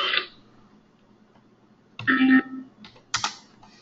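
Short bursts of close, crisp keystrokes on a computer keyboard as a search query is typed, separated by a pause of near silence.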